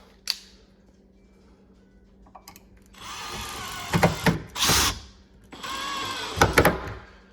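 A power drill drives screws while installing a farm sink, whirring in several short bursts, pausing between runs, close by with no talking.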